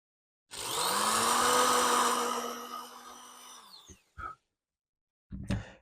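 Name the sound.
drilling a hole in a guitar headstock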